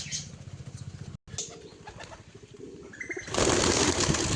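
Pigeons being fed peanuts coo in low, steady pulses, then break into a loud, rushing burst of flapping wings near the end as the flock takes off close by.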